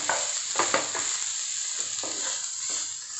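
Four finely chopped onions sizzle in a pan over high flame for beef fried rice, a loud, steady frying hiss broken by occasional clattering stirs.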